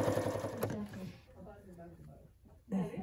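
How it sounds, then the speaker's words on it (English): A domestic sewing machine runs a quarter-inch top stitch through quilted fabric for a schoolgirl sampler pincushion and mug mat, a steady close whir that starts and stops in short bursts with a brief pause between runs. "I'm going to go ahead and top stitch it a quarter of an inch."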